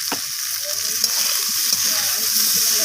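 Vegetables, spices and green chillies stir-fried in a pan for a fish curry with bottle gourd greens, a bright constant sizzle close by, with scraping stirs and light clinks of a spatula.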